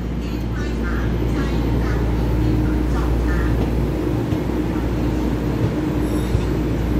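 A twelve-car EMU3000 electric multiple unit express, train 1438, pulls away from the station with a loud, steady low rumble and drone of traction motors and rolling stock, continuous and close, with faint speech underneath.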